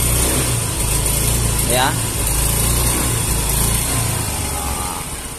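A Yamaha Mio M3 scooter with a sputtering, power-lacking engine and suspected weak fuel pump pressure idles loudly and steadily, then briefly revs up as the throttle is twisted, with a short spoken word over it.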